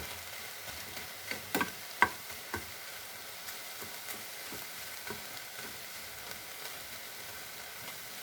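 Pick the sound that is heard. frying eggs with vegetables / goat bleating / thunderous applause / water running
frying eggs with vegetables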